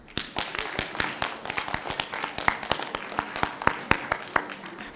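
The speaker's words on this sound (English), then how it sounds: "You may applaud your families" A middle school band claps for their families at an evening December concert, a loose run of sharp, fairly close hand claps with uneven rhythm, the many separate claps clearly distinguishable rather than blending into a continuous roar.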